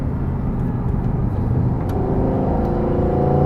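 Lamborghini Huracan Sterrato engine in sport mode, a steady loud low roar that builds and rises in pitch as the car accelerates, with no talking over it.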